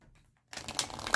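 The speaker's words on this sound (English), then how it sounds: "We're going to give this one quick shuffle." A large deck of playing cards being shuffled by hand, a quick burst of riffling and flicking that starts after a silent pause and runs on close and fairly loud.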